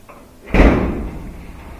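A Whirlpool dryer's top panel swings down and latches shut with one sharp, loud thump at close range, and its resonance dies away over the following second.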